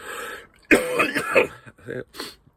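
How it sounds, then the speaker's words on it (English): A close, rough cough and throat clearing come in a few harsh bursts, then trail off into short raspy breaths. "Smoker's cough."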